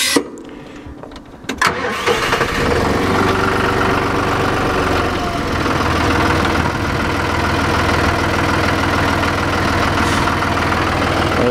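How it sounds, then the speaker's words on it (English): A tractor engine cranks and turns over, then settles into a loud, steady idle with a deep, even chug that continues to the end. "give me a second to start up the tractor"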